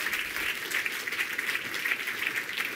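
An audience applauds at a conference talk on Appium at GTAC 2013, a dense, even wash of many hands clapping that holds steady and fairly loud throughout, with no speech over it.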